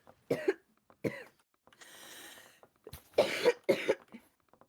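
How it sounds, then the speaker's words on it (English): A person coughs repeatedly near a microphone during a livestreamed game session, several sharp separate coughs with a short breathy pause between them, loud and close with no speech. "I tried to mute before I coughed, but didn't make it"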